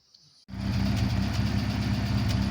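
A VAZ Classic car engine starts and settles into a steady, low idle with a throaty exhaust rumble through a Polish Polmostrow muffler, close by and continuous.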